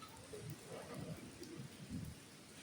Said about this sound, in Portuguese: está chovendo e o vento está forte.